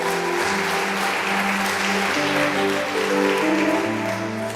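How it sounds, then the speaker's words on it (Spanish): Congregation applause at a church service, a steady wash of clapping lasting throughout, with sustained organ or keyboard tones underneath. "Denle un aplauso al Señor."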